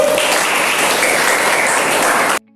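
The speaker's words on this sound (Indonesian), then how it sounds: "Tepuk tangan untuk kelompok 1" Loud, close applause from a classroom audience for a presenting group at a teacher-training session, sustained clapping from many people that cuts off abruptly at the end.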